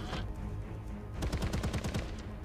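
Gunfire from a mounted cabin gun in ARK Survival Evolved: a rapid burst of about eight sharp shots in close succession, loud and close, following a low continuous rumble.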